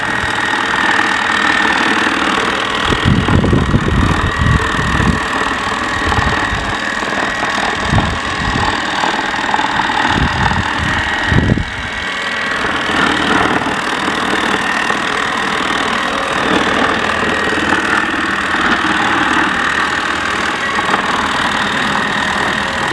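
A Mammotion Yuka 1500 robotic lawn mower drives across a lawn with a loud, steady motor hum, broken by a cluster of low thumps partway through, and no talking is heard.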